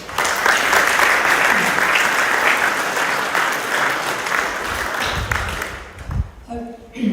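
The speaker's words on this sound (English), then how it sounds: "A job well done and deserving of your own applause." An audience at a school sports awards assembly breaks into sustained, even applause filling the room at close range, fading out near the end as a voice begins.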